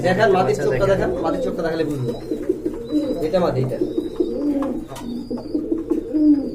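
Pigeons at a pigeon sale market keep up a continuous, close, layered cooing, with a few faint chirps and people talking over it.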